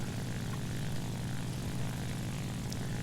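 A Yak-1 fighter plane's propeller engine in the War Thunder combat flight game, a steady, loud drone with a continuous low rumble, with no pause or voice.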